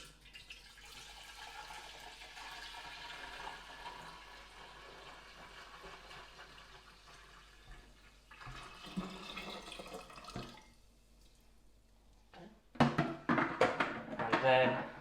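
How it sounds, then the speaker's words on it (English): Sanitizing solution is poured into a Pinter 2 home brewing keg, a liquid splashing and trickling for several seconds, close by, followed by louder clattering handling noises near the end; no talk. "I'm going to now pour in the sanitizing solution into the pinter."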